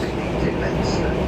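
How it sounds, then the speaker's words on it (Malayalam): An overnight train approaches Oslo, Norway, at dawn with a loud, steady rumble of wheels and carriage noise, heard close and continuous for a brief moment. "ഒരു രാത്രിയിലെ യാത്രയ്ക്ക് ശേഷം നേരം പുലർന്നു തുടങ്ങുമ്പോൾ ട്രെയിൻ ഓസ്ലോ നഗരത്തോട് അടുക്കുകയാണ്"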